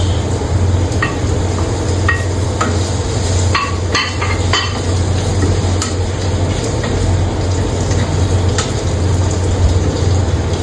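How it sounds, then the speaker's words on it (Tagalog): Chicken hot dogs sizzle steadily in a hot pan for a pork menudo while a spoon scrapes and clinks against the metal in scattered strokes, close and continuous with no talking. "So now we will add our hot dogs, chicken hot dogs."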